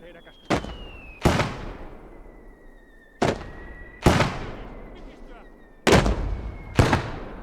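A 50mm mortar firing in Call to Arms: Gates of Hell, six sharp booming launches in irregular pairs, each trailing off with a ringing decay, with a faint whistle between shots.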